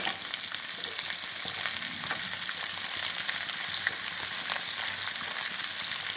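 Shallots, beans, green chilli, broad beans, potato and carrot sauté in hot oil for a bisibelabath, giving a steady, close crackling sizzle with faint stirring scrapes and no voices.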